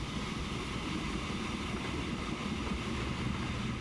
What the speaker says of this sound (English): What I might do is just let the train just move a little bit.